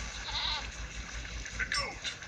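Goat bleating in the video game There Is No Game, a few short wavering cries with voices talking over them.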